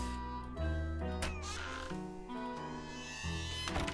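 A cat meows in the Nancy Drew game Secret of the Old Clock, a few tonal calls over a busy game soundtrack with music and other layered sounds.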